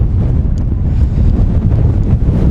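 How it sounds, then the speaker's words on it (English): Strong wind buffets the microphone with a constant low roar and rumble, loud and close, with no voices, on a hilltop walk in Bradgate Park. "Oh my god, it's tremendously windy today."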